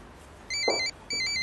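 A telephone rings in two short electronic bursts with a brief gap between them, clear over a low room background with no talk.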